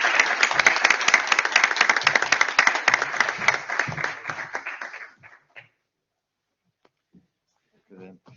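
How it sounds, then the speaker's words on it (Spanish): Seminar attendees applaud in a brisk, full round that lasts about five seconds, then cuts off sharply into near silence broken only by a few faint sounds. "Un aplauso para nosotros."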